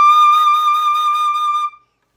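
A flute plays a single sustained high D with the correct fingering, a clear bright tone held for about a second and a half before stopping cleanly, alone with no talking.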